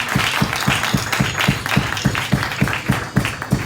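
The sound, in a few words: applause for the pastor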